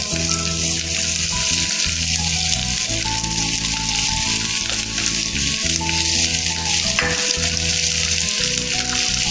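Ginger and garlic frying in oil in a pan for Kerala egg curry make a loud, continuous sizzle and crackle, with a steady hum and scattered clatter behind it and no talking.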